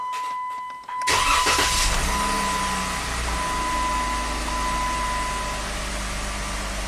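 Jeep engine starter cranks briefly and the engine catches after about a second, then settles into a steady, loud idle with a faint high whine over it, close up and without talk.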